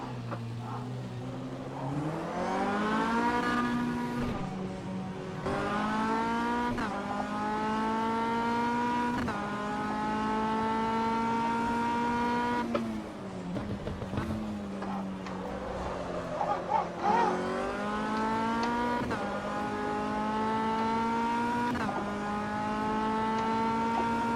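An MCR 2000 race car in a racing video game, its engine note climbing steadily through repeated upshifts, each gear change marked by a brief dip before the revs rise again, with a short burst of tire noise partway through.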